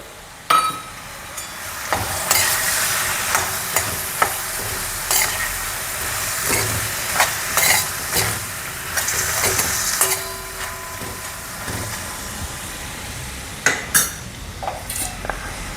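Soaked chana dal tipped into a sizzling ridge gourd stir-fry, with steady frying hiss and repeated sharp clacks of a spoon stirring against the pan, no voices.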